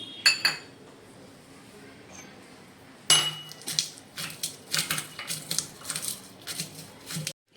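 Peanuts being coarsely crushed in a stone mortar and pestle for mirchi thecha, sharp gritty knocks and clinks, a couple at first, then a quick irregular run of pounding strikes close by.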